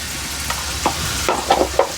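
Cumin and mustard seeds spluttering in hot oil for tempering, a scattering of sharp little pops and crackles over a low sizzle, close by with no talk.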